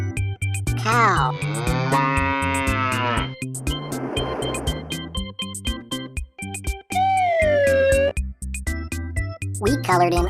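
A cow moos several times, loud drawn-out lowing calls set against upbeat children's music in a farm-animal learning song.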